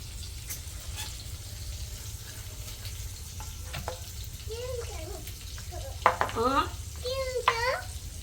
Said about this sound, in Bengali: মাছ রান্না করতেছি